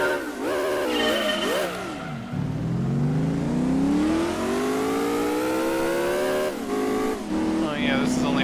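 Race car engine in Gran Turismo 2 revving through the gears, its pitch climbing steadily in long sweeps with brief drops at shifts, loud and close throughout, with a voice talking over it.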